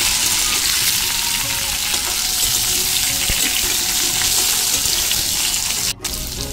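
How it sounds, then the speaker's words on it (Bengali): Pumpkin and potato pieces fry in hot oil, giving a loud, dense, unbroken sizzle close by with occasional stirring clinks and a brief dip near the end, and no one speaking. "কুমড়োগুলোকে ভালো করে ভেজে নেব।"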